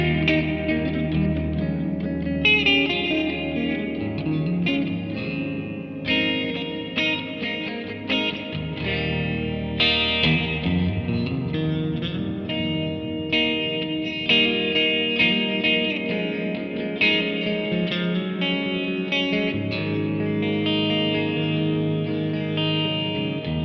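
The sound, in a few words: electric guitar through reverb effects preset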